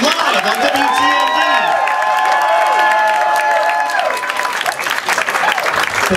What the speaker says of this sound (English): Let's hear another round of applause for Lincoln live on WTMD.